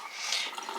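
Cold filtered water running from a separate small tap into a bowl while making butter, a steady close splashing flow lasting under a second, no voices.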